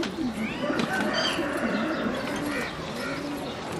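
Cooing of home-bred Israeli pigeons kept in a rooftop pigeon setup, a steady low murmuring coo running throughout with faint chirps over it, fairly close.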